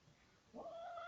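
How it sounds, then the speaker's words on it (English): A cat yowls in a rising, drawn-out caterwaul during a fight, fairly close and alone. "the cats are fighting"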